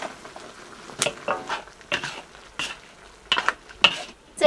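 Thick-cut potato strips dropped into a stewing pot of pork and green beans, making a series of separate clattering splashes and bursts of bubbling, close and fairly loud with short gaps between them.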